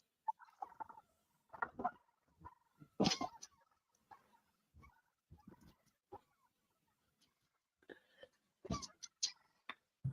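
Wild turkeys cluck and call in scattered bursts at varying distances, with quiet gaps between calls and some faint rustling.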